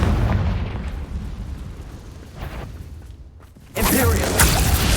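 Confringo blasting spell from Hogwarts Legacy: rumbling, booming explosive wash that fades, then a second loud burst erupts near the end, all under a dense game soundscape.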